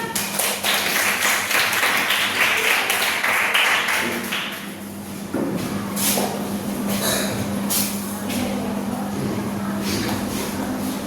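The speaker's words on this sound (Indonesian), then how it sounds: "Berikan tepuk tangan" A classroom breaks into applause for the first student group, dense clapping for several seconds that thins out into a few scattered claps and a low steady hum.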